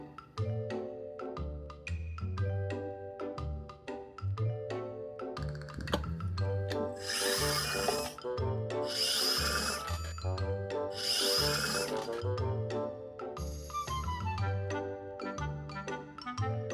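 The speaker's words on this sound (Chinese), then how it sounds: "把底部的固定螺丝拆下来。" Triangle security screws are backed out of the base of an electric kettle with a screwdriver bit, giving a run of small metallic clicks, ticks and scraping rattles. Brief bursts of buzzing from a power tool come and go over a quiet background.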